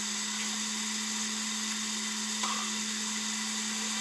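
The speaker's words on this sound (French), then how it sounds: "dites-moi si votre Switch fait des bruits comme ça, elle est en surchauffe" A loud, steady whirring fan hum from an overheating Nintendo Switch, with a constant high-pitched whine and a broadband rush, continuous and close.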